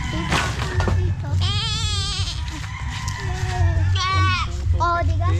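Goats bleat at a goat market, two long wavering calls close by, over steady crowd noise and background chatter.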